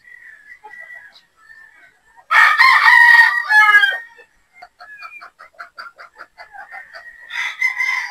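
Young gamefowl pullets of a three-quarter sweater, one-quarter Boston cross crow and cluck close by: a loud crow in the middle and another at the end, with scattered clucks and chirps between them.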